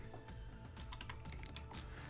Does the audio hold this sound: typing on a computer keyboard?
yes